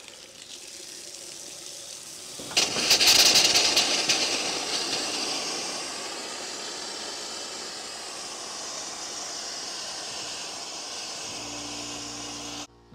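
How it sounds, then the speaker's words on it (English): Residential air compressor blowing air through pole barn water pipes, a sudden loud rushing hiss that bursts in, then settles into a long steady airy roar before cutting off near the end. "My air compressor is a residential one."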